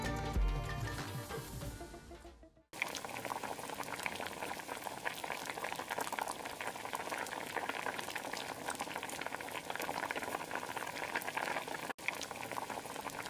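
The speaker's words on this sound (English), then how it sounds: "We're adding boiling water, just enough to cover the goat meat." Boiling water poured over goat meat in a curry pot sets off a loud, steady bubbling and hissing simmer, with a brief gurgle of pouring liquid just before it.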